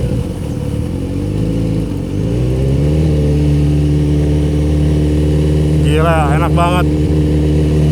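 A Kawasaki Z900 RS motorcycle engine revs up and climbs in pitch, then settles into a loud, steady drone close by. Excited voices talk over it near the end.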